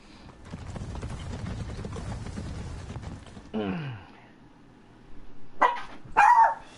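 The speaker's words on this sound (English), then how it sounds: "dog just kind of freaked out" A pet dog barks indoors during a Hollow Knight play session. After quieter game sounds, two or three sharp, loud barks burst out close by near the end.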